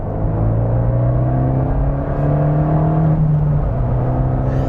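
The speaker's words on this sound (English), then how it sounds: "Can hear the little turbo whine there" An Abarth 124GT being driven on a dual carriageway, its engine droning loudly and steadily while a thin turbo whine rises and holds in tones above the rumble, no voices.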